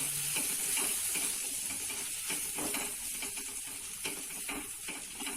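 Roasted gram flour is stirred into fenugreek greens in a pan for Khandeshi methi zunka, giving a close sizzling hiss with a rhythm of scraping spoon strokes and light clicks against the pan.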